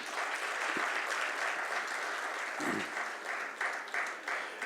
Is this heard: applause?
yes